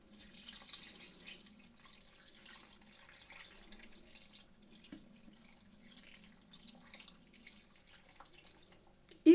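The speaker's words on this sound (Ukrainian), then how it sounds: "Спочатку крекер заливаємо молоком." Milk is poured over salted crackers while making a liver and meat pâté, giving a soft, steady trickle that runs through the whole stretch at a low level, with no talking.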